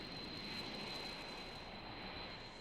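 A Boeing 707 passenger jet roars with a continuous, loud engine rush and a thin steady high whine running throughout, with no talking.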